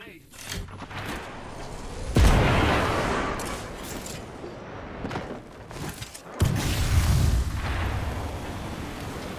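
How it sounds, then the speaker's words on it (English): A grenade blast in a video game, heavy booming explosions with loud bursts and rumbling tails amid gunfire, while a person talks over the action. "Look out, grenade."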